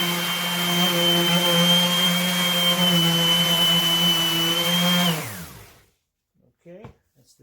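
Jellas 5-inch random orbital sander with fresh 120 grit sandpaper runs with a steady, loud high whine for several seconds, then spins down to silence, followed by faint handling noise.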